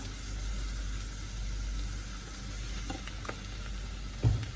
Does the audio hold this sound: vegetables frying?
yes